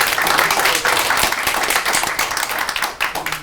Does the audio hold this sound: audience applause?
yes